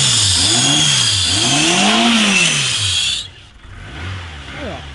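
A Chrysler PT Cruiser engine on a test drive revs hard under throttle, pitch swooping up and down in repeated surges before cutting off abruptly, leaving a quieter idle that briefly climbs again.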